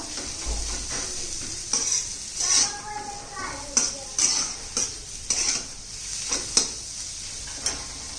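Green chickpea thecha is sautéed in a pan, with a soft sizzle under repeated spatula scrapes and metallic clinks against the pan, coming in irregular bursts.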